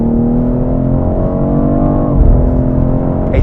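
A 2023 BMW X3 M Competition pulls hard under acceleration, its engine note climbing steadily and loudly before a brief dip like a gear change, then rising again, heard from close by with no speech.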